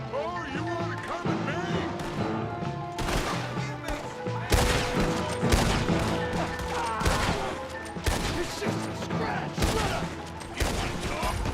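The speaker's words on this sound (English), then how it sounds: "Where are they shooting at me from?" Video game gunfire crackles in repeated bursts and fusillades over a dense game soundscape, with louder volleys every second or so.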